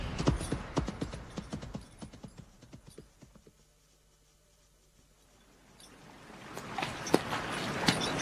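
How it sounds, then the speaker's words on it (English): Horses' hooves clop in a quick, irregular rhythm at close range, fading to near silence in the middle before the treading returns louder, with faint mechanical creaks alongside. "Your horses seem to be treading uneasily."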